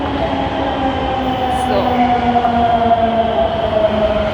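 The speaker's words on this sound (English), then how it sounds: "एक मेट्रो आ रही है, एक मेट्रो जा रही है" A metro train rumbles through a station with a sustained loud roar and a faint wheel squeal, and a person speaks briefly over it.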